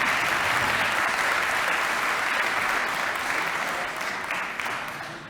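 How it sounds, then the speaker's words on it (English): An audience at a city's State of the City presentation applauds the sponsors with sustained, even clapping that gradually tapers off toward the close. "Can we have some applause for our sponsors?"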